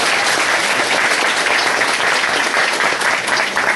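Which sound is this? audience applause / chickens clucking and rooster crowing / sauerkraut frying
audience applause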